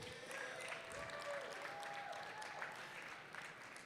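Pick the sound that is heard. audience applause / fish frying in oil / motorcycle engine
audience applause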